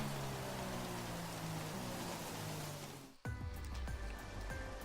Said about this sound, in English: diagonal rain, Carlos.